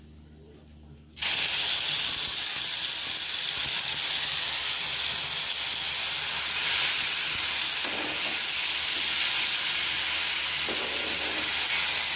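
Oil hits a hot pan with a sudden loud hiss and settles into a steady, close sizzle for Bengali soybean tikka, continuing evenly throughout.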